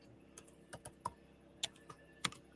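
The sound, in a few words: typing on a computer keyboard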